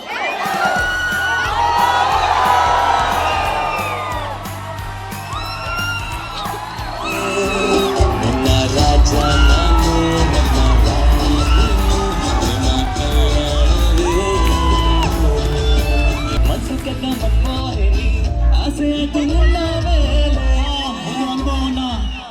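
A large crowd cheering, whooping and clapping at a shopping mall inauguration ceremony, loud and sustained with shouts and a voice over a public address rising through the noise.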